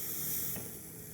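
Pork loin chops sizzle steadily in a pan over a low flame, a continuous soft frying hiss with a brief louder burst midway, heard up close.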